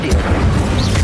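Incendio fire spell cast in Hogwarts Legacy on PS5, a short, loud burst of flame with a booming low rumble and crackling hiss during busy combat against brutes, with a voice calling out amid the fight.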